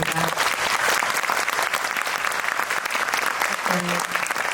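A cinema audience gives loud, sustained applause to the Dardenne brothers after a screening talk for Tori and Lokita; dense clapping fills the hall evenly, with a faint voice briefly underneath.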